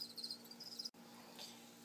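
Feeder crickets chirp in a quiet indoor room where tarantulas are being fed, a faint, steady high-pitched trill broken by a brief dropout.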